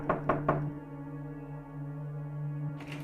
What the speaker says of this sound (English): someone knocked on my front door